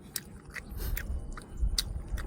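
Crunchy chewing of raw vegetables eaten with sweet liver and bitter chili dip, a handful of crisp bites close to the mouth over a low, steady munching background, with no talking.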